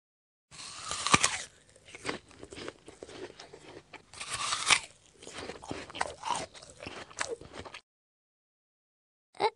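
Crisp, crunchy bites into an apple followed by wet chewing, a sound effect from the children's game Adibou, close and loud, in a few bursts, then silence with one last small crunch.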